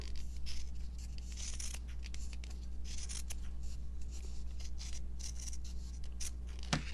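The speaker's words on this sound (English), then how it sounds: "So you just cut around it, and you'll have some extra. You just trim it off." Scissors snip and trim through fabric while cutting out a small purple garment for a girl gnome doll, a steady run of close, soft cutting and rubbing sounds with no talk.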